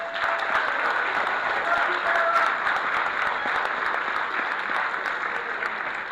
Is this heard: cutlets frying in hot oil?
no